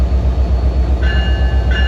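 An NJ Transit Alstom PL42AC locomotive with an EMD prime mover passes at Ramsey on the Bergen County line, giving a loud, steady low rumble with a thin high whine that comes in partway through, close by and without talk.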